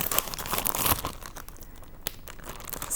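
Thin plastic bag crinkling and rustling as a finished clay pot is slipped inside and sealed, close and busy at first, then quieter scattered crackles.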